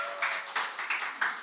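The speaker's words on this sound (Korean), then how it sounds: "우리 박수 한번 할까요?" A church congregation claps together at a year-end worship service, a moderately loud burst of applause rising and falling in several uneven swells without speech.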